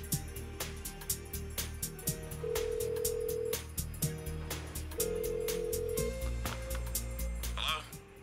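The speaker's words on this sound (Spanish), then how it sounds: "Decides llamar a Dojima" Phone ringing in the video game Persona 4 Golden, with two long electronic ring tones over background game music and faint clicks.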